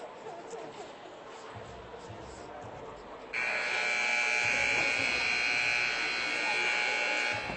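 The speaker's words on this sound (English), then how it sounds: "All right, the buzzer sounds." A loud, steady electronic buzzer at an under-12 youth hockey semifinal blares partway through and holds, rising over a murmur of crowd chatter in a large arena.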